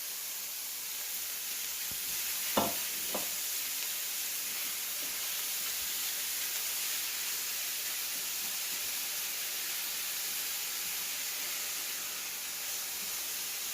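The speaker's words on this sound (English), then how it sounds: "So we're sweating out our onions and celery. We're going to add our ground beef to this." Onions, celery and ground beef cook in a pan, giving a faint steady hiss like sizzling with a couple of brief clinks early on, quiet and continuous with no talking.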